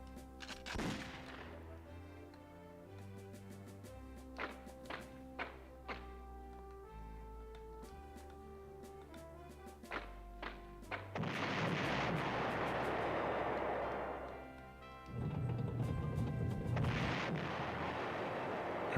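Artillery fire in the PlayStation 1 war strategy game Panzer General: a series of sharp, separate booming shots punctuating game music, followed by two longer rolling explosive rumbles.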